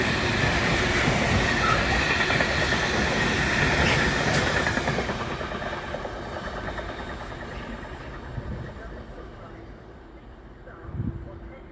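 Edinburgh to Bristol train speeding through Northallerton station, a loud rushing roar with rail rumble that gradually fades as it passes, ending in a faint distant clatter.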